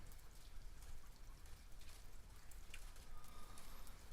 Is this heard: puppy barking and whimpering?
no